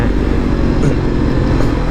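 Honda CBR500R motorcycle engine heard while riding, a loud close steady rumble with road and wind noise, no talking.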